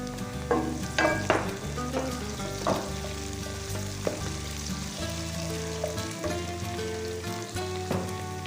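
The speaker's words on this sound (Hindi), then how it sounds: "अब हम इसमें लहसुन शामिल करेंगे।" Garlic is added to hot oil with lightly browned onions for dhaba-style chana, and it sizzles and crackles steadily, with a few louder pops and spoon clinks over a continuous frying hiss.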